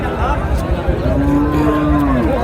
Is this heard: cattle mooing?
yes